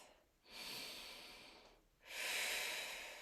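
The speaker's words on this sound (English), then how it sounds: "Take a breath." Two audible breaths taken between sets of a strength workout, each a close, airy inhale-exhale rush swelling and fading, the second louder, with no talking.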